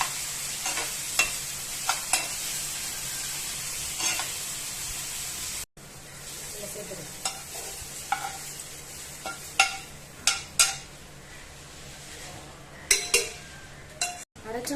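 Tomatoes and onions sauté in a pan while a spoon stirs and scrapes, giving soft sizzling broken by sharp metallic clinks and taps, close by, with a brief silent gap partway through.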